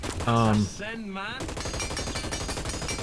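An assault rifle firing in the Hyper Scape video game, a rapid run of shots over the last half, mixed with other game sounds and short musical or voiced tones at the start.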